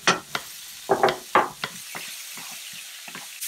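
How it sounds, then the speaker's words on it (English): Onions and garlic fry in a dollop of butter in a pan, giving a soft sizzle broken by several sharp stirring scrapes close by. "good old dollop of butter mixed in. Nothing too complicated. We'll put our onions in and our garlic."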